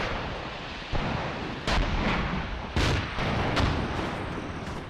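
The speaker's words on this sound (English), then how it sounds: "You see those mortars are getting dangerously close." Mortar rounds in Graviteam Mius crash down nearby amid a constant roar of battle, several sharp heavy bursts landing about a second apart over continuous rumbling gunfire, loud and close, with no talk.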